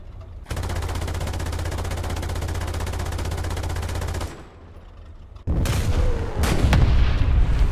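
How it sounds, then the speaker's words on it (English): Sustained machine-gun fire rattles loudly for about four seconds in War Thunder, followed by a pause and then heavy cannon shots with booming, rumbling impacts. "I'm going to take out these guys with my machine gun. And then shoot them with a big gun."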